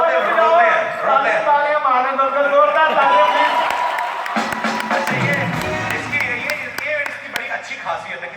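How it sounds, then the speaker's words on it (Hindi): Audience at a live comedy show in Dubai claps and cheers, a broad crowd wash of applause mixed with voices that swells early and then thins out toward the end. "तालियां मारने दो, जोरदार तालियां प्लीज"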